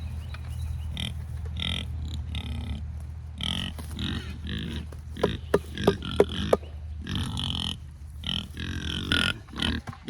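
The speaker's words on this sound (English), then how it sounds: "Now these big pigs, look how healthy and shiny their skins are. They're drooling, they really want their food now." Big, healthy farm pigs grunt and snuffle close by while eating tossed-out food scraps, with a continuous low rumble of deep grunts broken by sharper snorts and chomping sounds.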